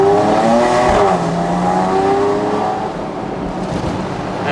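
Porsche 997.2 Carrera 4S Cabriolet flat-six engine while driving, a smooth rising tone that steps up through revs, eases off, then settles into a softer cruising hum, heard from inside the car.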